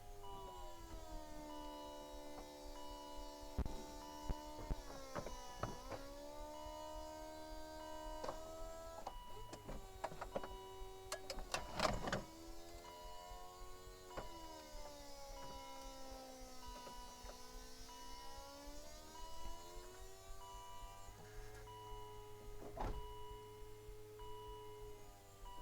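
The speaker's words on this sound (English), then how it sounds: "So let's just, for fun, see the top open." Power folding hardtop of a Volvo C70 convertible opening on its hydraulics, a long steady whine and hum from the motors that shifts pitch as each stage moves, with a few clunks and latch clicks along the way.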